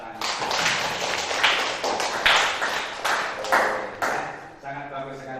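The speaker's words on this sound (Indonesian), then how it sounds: "kasih tepuk tangan." A class of students claps together after a lesson in an Indonesian classroom, a dense burst of close applause that runs steadily for several seconds before easing off as a voice speaks over the end.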